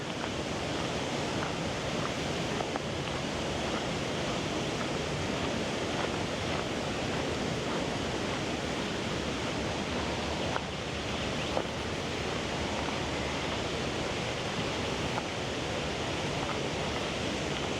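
Potable public fountain water runs steadily in Ortisei in the Dolomites, a continuous broadband splash and rush that stays even and close throughout with no pauses.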